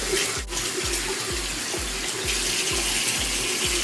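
A kitchen or bathroom tap runs water over a makeup brush being rinsed clean, giving a steady splashing flow with a soft repeated pulsing underneath and no one talking.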